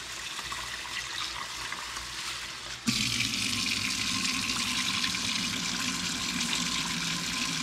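Rice being washed in water inside a rice cooker pot, a steady rushing wash of running water that grows louder and fuller partway through and continues without talk.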